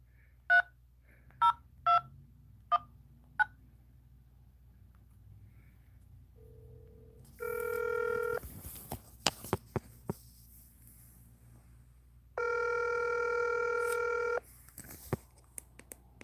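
An old burner phone dials, with five short keypad tones in a quick run, then a single low beep and two long ringback tones separated by clicks and rustling, all fairly close and clear.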